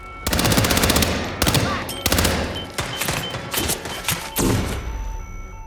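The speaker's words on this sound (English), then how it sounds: "He's shooting!" Bursts of loud, close video-game gunfire from Hitman, with rapid automatic volleys repeating in several clusters over a few seconds.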